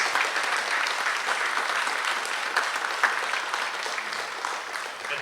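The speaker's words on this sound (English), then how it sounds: "Please give them a round of applause for all their hard work and dedication to excellence." Sustained applause from a school ceremony audience honoring National Honor Society inductees, steady dense clapping throughout with no speech over it.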